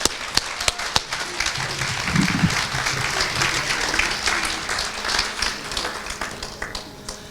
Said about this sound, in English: a massive round of applause for all our students